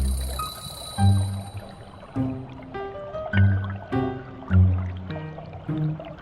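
Water running along a narrow household drainage channel in a Japanese water garden, a steady trickle with repeated gurgles and soft splashes recurring about once a second, close and moderately quiet.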